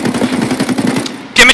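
Rapid automatic gunfire in a first-person shooter video game in a wooded area, a close burst of shots that stops briefly before another loud burst, with a player's voice talking over the first part.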